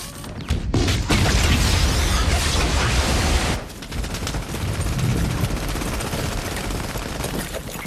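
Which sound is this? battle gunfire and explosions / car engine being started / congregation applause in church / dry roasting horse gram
battle gunfire and explosions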